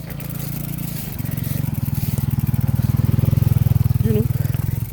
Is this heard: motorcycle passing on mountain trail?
yes